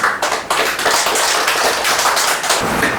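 Dense, steady applause from an audience welcoming the chairman of the Yongsan redevelopment zone 1 promotion committee, loud and continuous with no voices over it.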